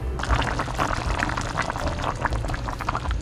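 Steady bubbling and gurgling of chicken broth boiling in a pot, continuous and close, with dense popping bubbles throughout and no voices.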